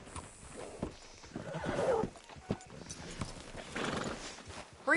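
Horse hooves clip-clop in the video game Red Dead Redemption 2, with a whinny rising at the end, close and fairly loud over a busy background.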